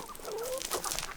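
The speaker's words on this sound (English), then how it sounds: "you're the prettiest chickens I have ever seen" Chickens clucking close by in short, soft, throaty bursts against faint outdoor background noise.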